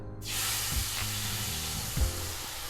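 Orange juice poured into a very hot pan with cooked-out flour erupts into a loud, sudden sizzle and hiss that holds steady, with low stirring scrapes beneath and no voices.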